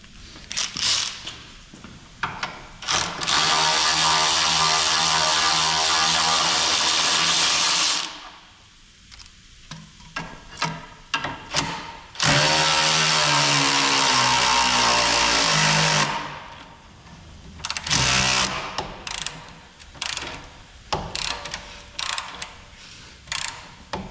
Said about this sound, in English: This is my snap-on gunmetal gray brushless long neck 3/8 drive ratchet.